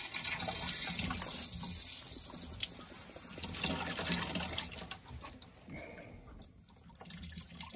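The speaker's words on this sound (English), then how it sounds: "We're going to drain the water or the pressure from that line into the bucket." Water gushes and splashes steadily from a test port of a Febco 850 double check valve backflow preventer into a bucket, a continuous rushing flow heard up close with no talking.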